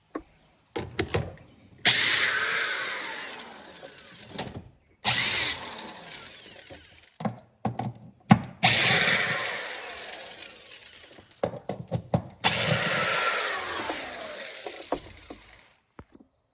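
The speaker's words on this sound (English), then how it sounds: "we're gonna remove 4 10mm bolts, 1, 2, 3, and 4, and 1 clip over here" Power tool spinning out four 10mm bolts from the front trunk of a Tesla Model Y, heard as several separate bursts of whirring and ratcheting, close and loud, with short pauses between them and no talk.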